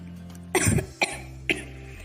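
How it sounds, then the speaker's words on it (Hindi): Three coughs from a man ill with suspected Covid, one harsh drawn-out hack followed by two short sharp ones, close up over a low steady hum, in a cartoon. "मुझे खांसी भी बहुत है"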